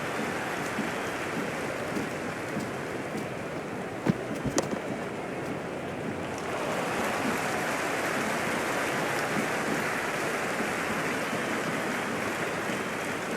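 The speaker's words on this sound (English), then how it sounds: "It's evident and ever so audible that the crowd is at near bursting point at today's play." Steady, dense stadium crowd roar from a cricket match in the Cricket 26 video game, a continuous wash of voices that swells slightly louder midway and holds at a constant, busy level throughout.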